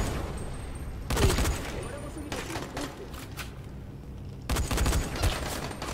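Gunfire from the video game Dying Light, with sharp bursts of shots around the one-second mark and again near four and a half seconds, separated by quieter game ambience.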